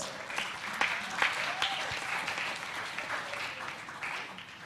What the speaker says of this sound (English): please give big applause to all the grand finalists